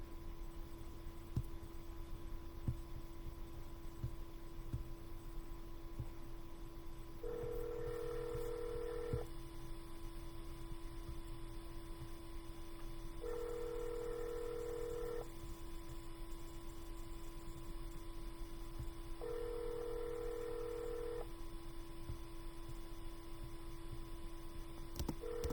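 Telephone call in progress on a cold call, a faint steady line hum with three evenly spaced ringback tones, each about two seconds long, no voices.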